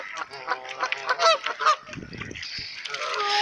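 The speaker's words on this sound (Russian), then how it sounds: "Вот гуси орут, как сумасшедшие" Geese honk loudly in a rough, overlapping clamor in England in spring, several birds calling at once close by, with a lower rumbling stretch in the middle.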